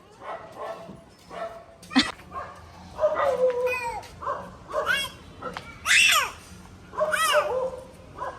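A dog barks and yips repeatedly in uneven bursts, close by, with short pauses between calls.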